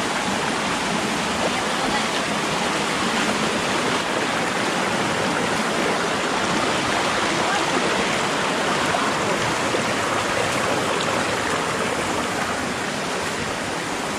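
A stream rushes and flows outdoors with a dense, steady roar that is loud and close and never lets up.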